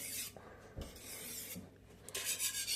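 A knife blade drawn under light pressure across a whetstone gives quiet, close rasping strokes, a few separate scrapes with gritty hiss between them and no voices.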